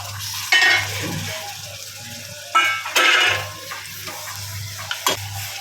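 Goat brain being stirred and mixed into a pan, heard as a few sharp scraping bursts over a steady low hum, with quieter stirring between them and no voices.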